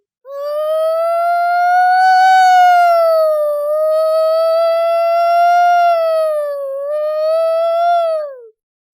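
A single voice imitates an ambulance siren with a long, steady wailing tone that dips and rises slightly, sustained loudly for about eight seconds.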